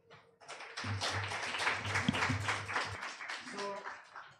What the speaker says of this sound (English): So clap for the panel once again.